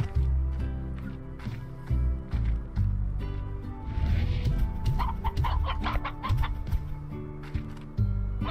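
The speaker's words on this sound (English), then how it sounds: "A hearty chicken bred to be twice as tasty." Farm chickens in the video game Slime Rancher cluck repeatedly in short irregular bursts, fairly close and loud, with a few busier overlapping calls midway; no talking.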